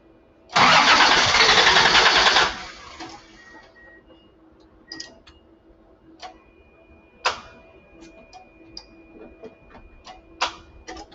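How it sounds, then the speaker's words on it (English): A car engine is cranked by its starter during a starting-system diagnosis, a loud steady whirring crank lasting about two seconds, then quiet with scattered clicks and ticks from the workbench. "Let's try cranking the engine."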